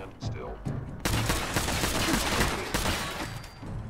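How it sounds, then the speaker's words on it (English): Dense, continuous gunfire and combat noise in the Fallout 4 VR video game, loud and close, with rapid overlapping shots filling the whole stretch. "That gun shoots way too slow."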